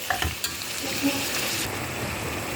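Onions and meat for Arap kebabı being stirred in a hot pan, a steady close sizzle with scraping stirs over a couple of seconds.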